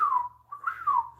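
A person whistles a short imitation of a mockingbird call: two clear, falling whistled phrases separated by a brief pause, close and fairly loud, with no talking.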